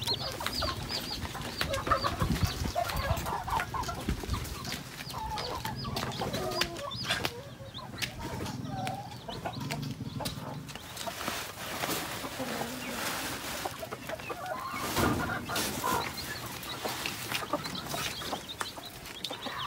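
Chicks and hens in a chicken coop keep up scattered peeping and clucking throughout, close and fairly busy, with a person talking over them.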